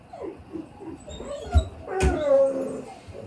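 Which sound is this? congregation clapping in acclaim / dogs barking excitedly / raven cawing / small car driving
dogs barking excitedly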